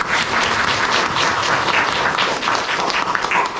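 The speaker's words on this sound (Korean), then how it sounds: "반갑다고 다 같이 우리 환영의 박수를." A church congregation gives a pastor a warm round of welcoming applause, dense steady clapping from many hands filling the room for the full few seconds, with no speech over it.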